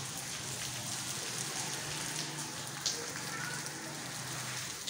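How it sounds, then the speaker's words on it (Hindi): Steady rain falling in Karachi during the monsoon, a soft, even broadband hiss that continues without a break for the whole stretch, with one brief, sharper patter of drops standing out near the middle. "बारिश अभी तक"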